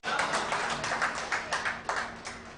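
An audience at a Hindi poetry recital claps to welcome the poet, a moderately loud run of fairly regular claps with a faint steady tone underneath.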